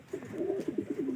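A racing pigeon coos in a short rolling series of soft, close, throaty calls just after release in a summer race from Bulacan to Pinamalayan, Oriental Mindoro.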